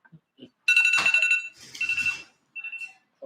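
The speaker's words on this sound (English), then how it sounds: "oh, there's my alarm." An alarm goes off nearby as a series of bright electronic beeping bursts, loud and tonal, with short gaps between them and a few faint clicks in between.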